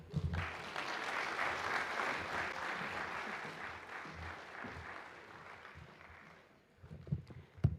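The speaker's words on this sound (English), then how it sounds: "Give him another round of applause" Audience applause at a teachers' training college closing ceremony, a steady wash of clapping from a crowd that fades out after several seconds, followed by a few scattered claps and thumps.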